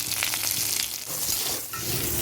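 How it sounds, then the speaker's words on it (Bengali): Pointed gourd (potol) pieces frying in hot oil give a steady, close crackling sizzle with scattered sharp pops and occasional stirring scrapes, continuous throughout with no talking. "পটলটা ভাজা হয়ে গেছে লাল লাল করে, তুলে নেব"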